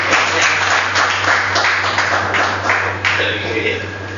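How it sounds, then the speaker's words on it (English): Church congregation clapping hands together for a pastor, a steady wash of applause mixed with talking and a low mains hum throughout. "we are clapping for the Lord"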